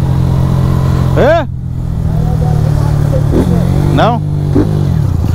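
A petrol Honda Fan 160 manual-gear motorcycle engine runs loudly up close, idling steadily with a couple of quick rising revs, while people talk briefly over it.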